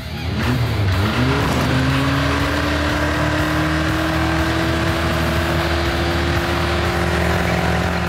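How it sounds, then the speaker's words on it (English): A car engine roars loudly and continuously at high revs during a burnout, with a rising whine settling into a sustained drone and tire noise underneath. "Back at the ranch, it's now burnout time."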